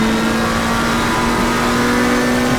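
Simulated McLaren GT3 race car engine in a racing game at Imola, held at a steady high drone with a strong constant tone, loud and continuous with no voices.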